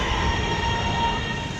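A passenger train, the Shah Hussain Express, at Lahore Junction railway station gives a steady, loud broadband rumble and hum that holds evenly throughout, with no talking.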